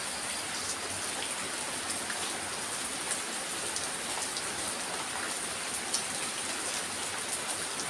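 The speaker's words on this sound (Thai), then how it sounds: "ดูละฟังเสียงฝนโลดพี่น้องเอ้ย" Steady rain falls continuously, a dense even hiss of drops pattering on surfaces with no voices.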